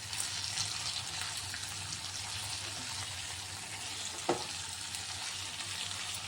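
Egg pulusu with chamadumpa (taro root) simmers in a pan, a steady soft bubbling hiss running throughout, with one brief scrape of a spoon stirring near the middle; no talking.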